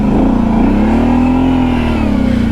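A truck engine in four-wheel drive revs loud and close, holding a steady, throaty drone that rises slightly and then eases back over a few seconds.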